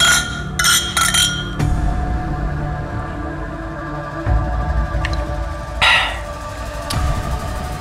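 Several drinking glasses clink together in a celebratory toast, a cluster of bright chimes near the start and more single clinks later, close by and ringing briefly over a quiet room.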